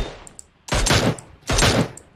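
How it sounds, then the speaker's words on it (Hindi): Two loud bursts of rapid gunfire in the mobile video game PUBG, each lasting about half a second, separated by a short pause, with faint clicks in between. "वो गोली कौन मार रहा था?"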